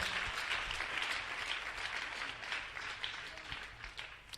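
A church congregation applauding, a steady wash of clapping from many hands that keeps up throughout at moderate volume, with no voices standing out.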